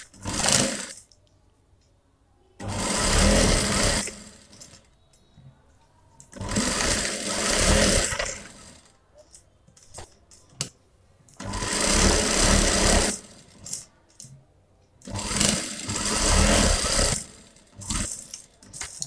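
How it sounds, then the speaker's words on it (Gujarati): A home sewing machine stitches a cloth face mask in four separate bursts of steady whirring, each a few seconds long, with quieter pauses between runs. "આની ઉપર આપણે એક સિલાઈ લગાડી લઈએ."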